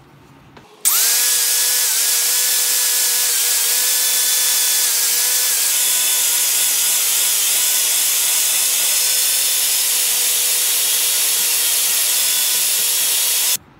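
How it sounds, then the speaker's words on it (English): An angle grinder fitted with a wire brush scours rust off a steel hatchet head. It starts abruptly and then keeps up a loud, sustained high whine with a harsh abrasive hiss for about thirteen seconds. "most of the rust has been sanded or ground off using the wire brush"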